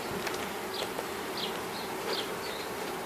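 Honey bees buzzing around hive frames, a soft close hum with individual bees whining past in short rising passes, fairly quiet and without any talk.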